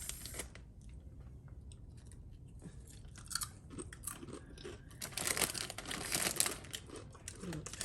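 Crunching and chewing crinkly cheese potato crisps close up, with bag crinkling and biting bursts that grow busier toward the end, no speech over it.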